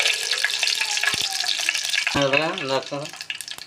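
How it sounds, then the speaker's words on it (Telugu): Tempering spices crackle and sizzle in a spoonful of hot oil in a pot, a steady close frying hiss throughout, with a voice briefly speaking over it partway through. "తర్వాత ఒక స్పూన్ తాలింపులు యాడ్ చేసుకుందాం"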